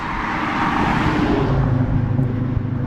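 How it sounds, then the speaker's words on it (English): A heavy vehicle rumbles past close by on a roadside in Maine, a loud, broad, continuous roar of engine and tires with deep low-end rumble that holds steady throughout, with no talking. "Those big trucks go by."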